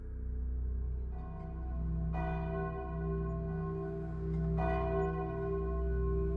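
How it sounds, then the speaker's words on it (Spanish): Church bells ring with rich, sustained tones, new strikes layering over the lingering hum, steady and resonant. "las campanas de la iglesia marcan el ritmo de la vida cotidiana."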